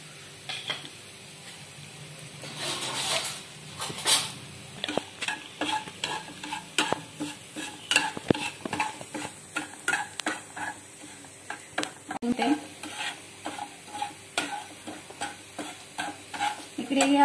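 Sago flour roasts in a few spoonfuls of ghee for a sweet dish, with a rhythmic series of spoon scrapes and taps against the pan over a soft, low sizzle and no talking.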